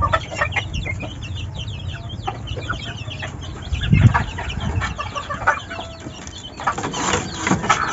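A mixed flock of roosters and hens clucking and chattering continuously close by, with a louder burst partway through and scattered bird calls over a busy farmyard din.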